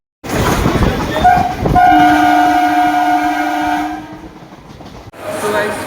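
A loud, close train horn blasts for about three seconds from the first coach of a passenger train bound for Sealdah station, over a rumbling carriage roar that fades before a final clatter.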